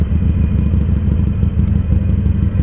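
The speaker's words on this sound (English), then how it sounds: "I really like how this bike sounds though. It's nice and loud and rumbly" A Harley-Davidson Iron 883 Sportster engine rumbles loud and close, a deep, pulsing low throb with a steady uneven beat that runs through the whole moment without talk.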